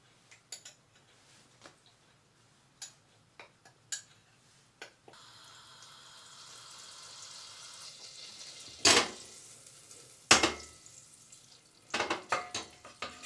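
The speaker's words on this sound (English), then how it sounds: "add the flour and gently stir it in" Flour stirred into a paste in a pan for macaroni cheese with leek: a few light clicks, then a steady soft sizzle and scraping, with two louder spoon knocks against the pan and more taps near the end.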